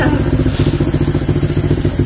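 A Honda Click/Vario scooter engine with a tuned setup starts up and settles into a steady, close, rhythmic thumping idle, loud and pulsing evenly throughout.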